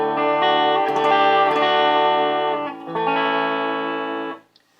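Electric guitar through a Basic 65 Deluxe pickup, on a Monoprice Cali Classic, ringing a sustained chord with a slight change midway, bright and full, then cut off near the end, alone without speech.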